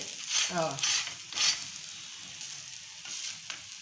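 Eggplant thalipeeth crisps on a hot pan, giving a soft, steady sizzle with a few louder bursts of frying early on and faint scraping, heard close and fairly quiet.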